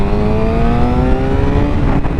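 A 2016 Suzuki GSX-R750 sport bike pulls hard in second gear, its engine note rising steadily and loud and close through the run, with a rushing wind-like roar underneath and no talking.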